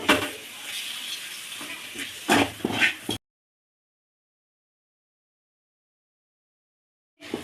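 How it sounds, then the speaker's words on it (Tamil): Chicken sizzles and hisses as it is stirred into masala in a pan, a busy crackling wash for about three seconds with a few louder scraping stirs, then sudden silence before a brief return at the end. "இதை இந்த மசாலாவோட போட்டு கொஞ்சம் கிண்டி விட்டுக்கோங்கப்பா"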